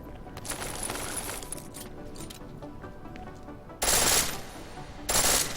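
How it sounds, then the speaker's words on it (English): Pistol firing in full-auto mode in Deus Ex Mankind Divided, with two short loud bursts near the end after a quieter stretch of faint mechanical clicks and rattles. "The pistol in full auto will take down targets fast, but it'll burn through your ammo"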